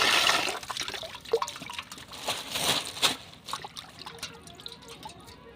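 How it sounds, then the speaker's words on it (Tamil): Running water splashes and trickles as rock fish are rinsed in a perforated vessel, with uneven gushes and drips close by. "இன்றைக்கி வாங்க மீன் கழுவுறதை பார்க்கலாம்"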